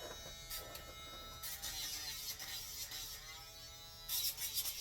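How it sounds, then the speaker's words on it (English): A Dremel rotary tool grinds a dog's nails with a faint, steady high-pitched buzz, its tone shifting slightly as it presses, with a louder burst near the end. "I'll come through with a Dremel and try to get closer to the quick"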